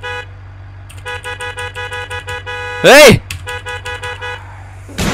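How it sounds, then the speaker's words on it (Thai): A car horn honks in the driving game BeamNG Drive, in a rapid series of short toots followed by a long sustained blast, with talking and a shout over it. "ผมว่าเราลองบีบแตรใส่เขาดิครับ"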